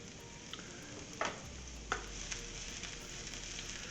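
Chopped garlic and shallot hit hot oil in a pan and sizzle steadily, a continuous bright crackle with a few sharper pops and stirring clicks, close by and alone without talk.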